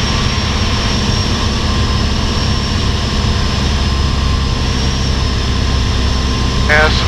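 Small propeller airplane engine throttled back to reduced power, a steady continuous drone heard from inside the cabin, with a brief burst of other sound near the end.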